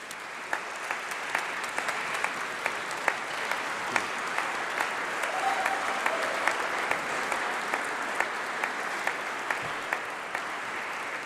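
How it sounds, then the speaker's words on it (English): Graduates and audience at a university winter graduation congregation applaud steadily for their teachers, a sustained, even wash of many hands clapping from a large seated hall, heard alone without talk. "give them all a huge round of applause"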